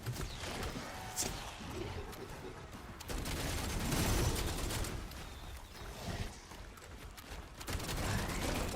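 Gunfire rattles almost nonstop as a weapon is hip-fired at a tough enemy in Black Ops 7 Zombies, loud bursts of automatic shots with a short lull before the firing picks up again.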